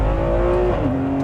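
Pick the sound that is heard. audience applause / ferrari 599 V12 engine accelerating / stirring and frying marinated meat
ferrari 599 V12 engine accelerating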